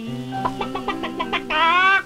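A human voice mimics a rooster, breaking into a series of clucking notes and then a long drawn-out crow, with a word sung just before.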